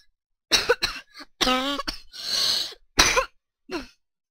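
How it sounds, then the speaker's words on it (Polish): A person coughs several times in short bursts with pauses between, close and loud, including one hoarse, drawn-out throat-clearing cough, without speech. "kaszel nie oszczędza"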